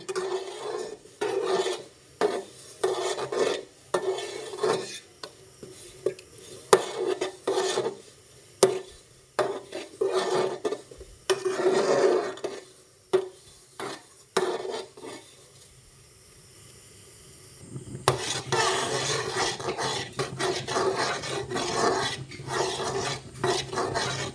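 A spoon scrapes and rasps around a cooking pot of thick jaggery syrup in steady, repeated strokes, then a rougher continuous stirring sound takes over near the end, with no voices.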